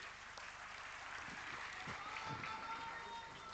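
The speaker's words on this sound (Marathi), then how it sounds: "एकदा जोरदार टाळ्या झाल्या पाहिजेत." An audience applauds at a Shiv Sena political gathering, a faint, steady wash of clapping heard from a distance that holds for a few seconds without pause.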